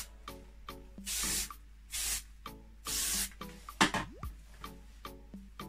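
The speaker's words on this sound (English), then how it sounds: "I'm just going to give it a good spritz over." Hair spray is spritzed over styled hair in three distinct, fairly close hissing bursts of about half a second each, separated by quiet handling sounds.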